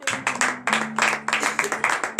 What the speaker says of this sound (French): Donnez de l'acclamation à l'Éternel.